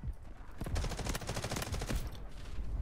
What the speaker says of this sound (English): I got shot by a guy in front of me that I didn't see